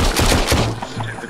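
Rapid gunfire from handguns in the VR zombie shooter Arizona Sunshine, horde mode: a quick string of close, loud shots in the first half, then a few softer pops and mechanical handling sounds.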